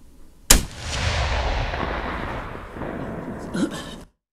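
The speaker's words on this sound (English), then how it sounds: "I'm gonna fire another one just to make sure." A single sharp gunshot from a Soviet M44 Mosin Nagant carbine cracks out loud and close, followed by a long, rumbling echo that fades over several seconds.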